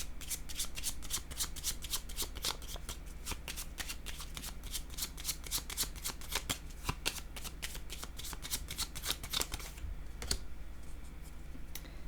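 Tarot cards are shuffled close by in quick, crisp riffling bursts that repeat steadily for about ten seconds, then stop briefly before a few more soft flicks, with no talking.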